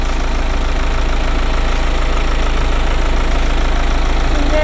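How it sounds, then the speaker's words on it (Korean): Diesel engine of a BMW X3 xDrive 20d SUV idles steadily in the engine bay, a close, loud, even low rumble with faint periodic ticking and no voices. "엔진 소리도 일정하네요."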